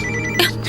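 An incoming call sets a telephone ringing, a short bright electronic ring tone sounding clearly through a brief moment.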